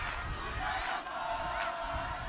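A crowd of Langeberg supporters chants at a school rugby derby between Robertson High and Langeberg Secondary, a steady, dense roar of massed voices sustained throughout.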